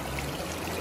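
River water rushes steadily through a green sluice box set up in the river, a continuous close, even wash of flowing water with no voices.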